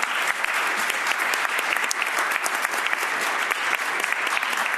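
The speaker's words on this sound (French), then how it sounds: "Merci d'applaudir tous nos intervenants." An audience at a round table discussion applauds the speakers, dense sustained clapping from a crowd that stays steady for the whole stretch.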